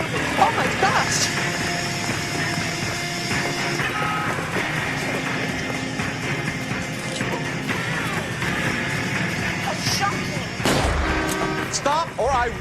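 Gunfire and explosive bangs ring out in the video game L.A. Noire amid a busy mix of game sounds and beeping, with voices talking over the action.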